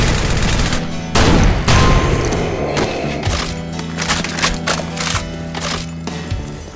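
Chaingunners open fire in the Project Brutality mod of Final Doom, Plutonia Experiment level Congo. Loud, close rapid bursts of gunfire blend with thumping impacts and booms in a dense, continuous barrage.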